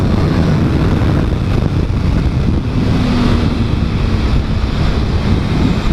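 A 2015 Suzuki GSX-R 600 sport motorcycle at full throttle is buried under heavy, constant roaring wind buffeting, loud and unbroken throughout with a faint engine tone beneath.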